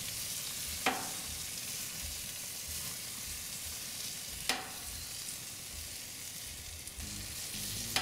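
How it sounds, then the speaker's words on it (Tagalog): Tuna belly sizzles on a grill with a steady, close frying crackle, broken by a few louder hissing flare-ups and no talking. "Itutuloy ko lang ang pag-ihaw dito ng mga 3 minuto uli."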